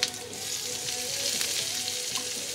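Tomatoes sautéing in a hot pan with bean sprouts and pork, a close, continuous sizzle and crackle of frying with light stirring noises.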